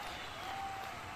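Steady background hum of a crowd at T-Mobile Arena on fight night, a low, even wash of distant voices that stays constant throughout.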